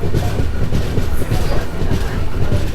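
The Kerala Superfast Express, running between Nellore and Vijayawada in rainy weather, makes a loud, continuous rumble with dense rhythmic clatter of wheels on rails, heard close from on board.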